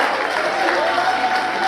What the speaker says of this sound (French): Applaudissez Cécile Dinito.